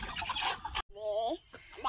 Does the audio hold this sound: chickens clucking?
yes